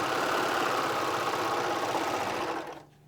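A Baby Lock Victory serger stitches through thick canvas with a dense, rapid mechanical whir that holds steady for a few seconds before winding down to silence.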